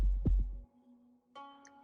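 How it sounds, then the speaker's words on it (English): A slow, muffled heartbeat in Arknights, two deep low thumps close together, followed by a soft sustained hum and a brief tonal chime. "You can hear it, can't you? Its heartbeat."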